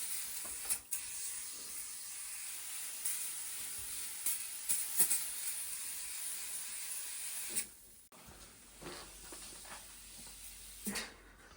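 An aerosol can of anti-dust spray hisses onto a plant wall in a long, steady, faint spray with a few brief clicks, stopping near the end before a short second burst.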